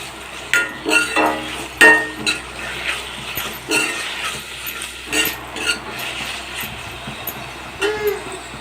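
Ginger garlic paste is stirred and sautéed in a tri-ply kadai, with repeated metallic clinks and scrapes of a spatula against the pan over a soft sizzle.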